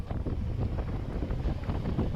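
Strong wind buffets the microphone on a motorcycle ride under clear, sunny skies near Amiras, Viannos: a steady, loud low roar with gusty rumble running throughout, no voices.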